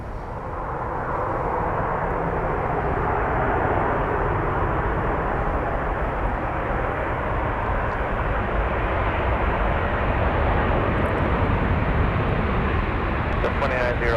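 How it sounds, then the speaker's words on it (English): A Delta Boeing 737 jet arriving from Atlanta lands at MSP airport, its engine roar swelling and holding steady and loud, while a voice talks over it and air traffic radio chatter is heard. "Here's Delta 2901 coming in from Atlanta."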